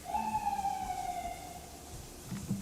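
Emergency vehicle siren wailing in a long falling tone, fairly loud and steady for a couple of seconds, with traffic rumble beneath and a brief thud near the end.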